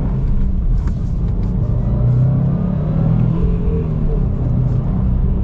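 A Subaru STI's engine revs and accelerates under load in a steady, loud, close rumble that swells and holds throughout, with no voices over it.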